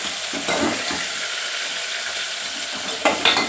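Onions frying in a pan give a steady close sizzle throughout, with occasional scraping stir strokes and clinks.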